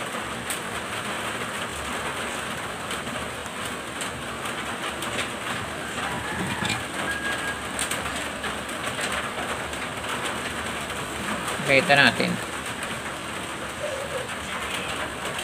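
Heavy storm rain falls in a steady, dense hiss throughout, with a brief louder clatter near the end and faint bird calls in the background.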